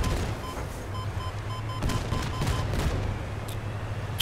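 Missiles and gunfire pound a rock in the Crossout vehicle combat game, a rolling barrage of bursts and booms over a low engine drone, with sharper cracks standing out near the middle and end.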